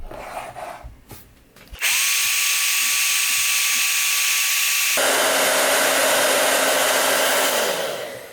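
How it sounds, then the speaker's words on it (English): A hair dryer roars loud and close for several seconds, its steady whine shifting pitch partway through as the setting changes, then easing off at the end after a brief bit of handling noise. "so that they don't blow away when I use my hair dryer on them"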